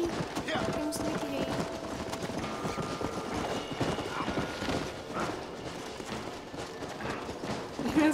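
Rhythmic hoof clip-clops from a galloping horse in Red Dead Redemption run steadily throughout, mixed with game effects and someone talking over them.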